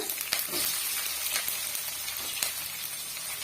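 Ginger, garlic and half an onion sizzle in hot oil in a pan for a roadside-style parotta salna, a steady soft frying hiss with a few light stirring knocks, close and fairly quiet.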